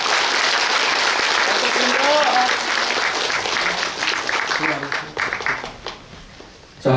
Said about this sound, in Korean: 자, 박수를 보내주시죠.